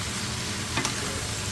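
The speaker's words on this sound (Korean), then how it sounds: "어느 정도 익었을 때 피망 넣어주고요. 아무 양념 없이 볶아주는데요." Bell pepper stir-frying in a hot pan without any seasoning, a dense continuous sizzle with a brief scrape of stirring partway through, close and alone.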